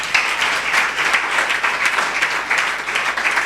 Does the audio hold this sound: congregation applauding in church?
yes